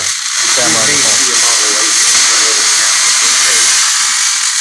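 Wire-feed welding arc hissing continuously at close range, a loud, steady crackling buzz that runs unbroken throughout.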